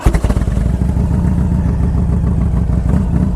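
A Harley-Davidson Ultra Classic motorcycle engine runs steadily up close, a deep, throbbing idle with a loose, loping beat and a slight mechanical clatter, with no talking over it.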